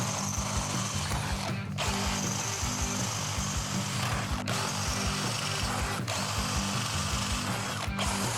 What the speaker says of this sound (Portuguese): Agora eu vou passar a broca 6 na capa, porque o parafuso tem que passar livre.